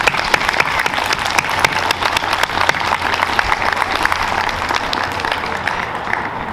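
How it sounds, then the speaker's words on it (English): An audience at a Magnet Schools of America award ceremony applauds the scholars, a sustained, even roar of many hands clapping, close and full, continuing without talk for several seconds. "let's give a round of applause to our scholars for the work that they put in every single day"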